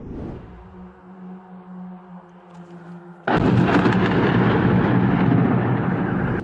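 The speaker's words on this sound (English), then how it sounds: "In the published videos, you can hear powerful explosions and see a bright glow visible from dozens of kilometers away." After a low droning hum, a sudden loud blast hits and gives way to a sustained, heavy roaring rumble that stays strong to the end.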